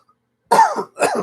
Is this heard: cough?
yes